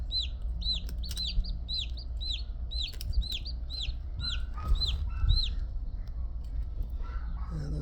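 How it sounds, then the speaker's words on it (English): Newly hatched chicks, their shells removed by hand after a difficult hatch, give a rapid run of high, repeated peeping chirps close by, with faint handling noise underneath. "And those ones are still breathing and chirping."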